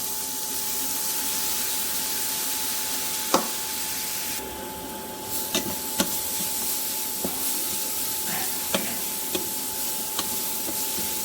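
Onion, ginger and garlic paste frying in oil for chicken bhuna khichuri, a steady close sizzle and hiss with occasional sharp pops and clicks of stirring.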